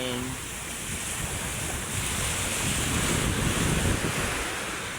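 Rough sea waves and gusting wind at Manila Bay during a typhoon, a constant loud roar of surf and wind buffeting the microphone, with a faint voice at the very start.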